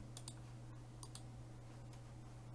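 A computer mouse clicks quietly at a desk, with a few sharp, faint clicks in small pairs over a low steady electrical hum and no talking.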